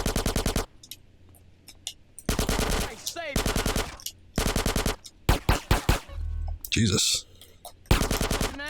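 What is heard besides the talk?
gunfire in video game Grand Theft Auto: San Andreas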